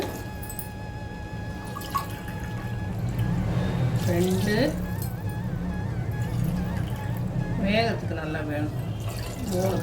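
Water is poured from a cup into a pressure cooker while cooking Kongu-style brinjal, a trickling, splashing pour under a nearby voice talking over it.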